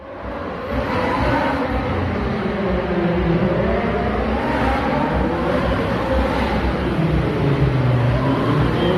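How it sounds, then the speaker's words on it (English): Formula One trial cars race through the streets of Monaco, a continuous loud roar of engines and traffic noise that swells and shifts without pause. "So here's a bunch of footage of these loud cars racing through the city."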